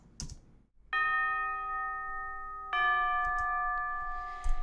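Tubular bells in an orchestral arrangement strike twice, each long ringing tone sustaining and slowly fading, the second stroke layered over the first, clear and prominent against a quiet background.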